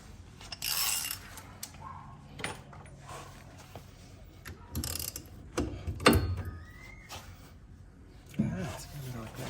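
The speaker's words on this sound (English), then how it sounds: "We'll undo the bolt" Metal clicks, ratcheting and clanks from a spanner undoing the ball joint bolt on a VK Commodore's front suspension in a home garage. The sharp bursts come irregularly over several seconds, with someone talking between them.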